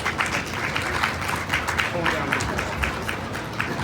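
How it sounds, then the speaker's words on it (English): County fair audience applauding returning husbands at a game-show-style stage event, a steady wash of clapping with crowd voices mixed in. "let's give the husbands a big round of applause as they join us back"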